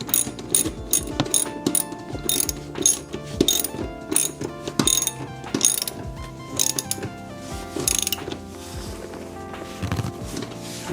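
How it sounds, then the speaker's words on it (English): Ratchet wrench tightening amplifier mounting bolts under the passenger seat of a Lexus LX, rapid clicking bursts in repeated strokes, close and fairly loud, with no talking. "you want to make sure for these that you tighten them down all the way"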